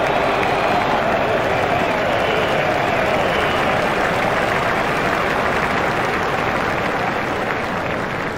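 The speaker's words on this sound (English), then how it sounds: "He deserves the applause from the crowd today." A cricket crowd applauds a batsman's half century in an India vs England one-day international, a broad continuous roar of clapping and cheering that holds steady throughout, with commentary voices faintly mixed in.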